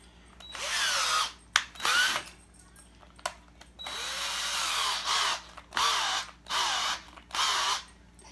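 A handheld power drill with a pointed bit whirs in repeated bursts of several seconds each, close and fairly loud, separated by short pauses, with a faint crow cawing in the background.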